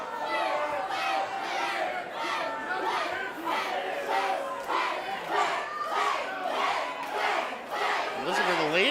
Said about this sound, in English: Listen to the ladies in the crowd going wild.